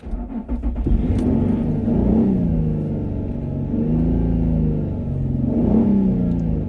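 An old car's engine revs hard at close range, rising and falling in repeated throttle blips with a deep, rough mid-range growl and no talking.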